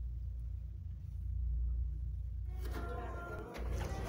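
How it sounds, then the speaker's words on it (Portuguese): A crew elevator on an MSC cruise ship runs with a steady low rumbling hum. Partway through, a broader mechanical whoosh and rattle joins the drone, close by and without speech. "É assim que é os elevadores de tripulantes"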